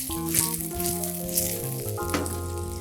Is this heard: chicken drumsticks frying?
yes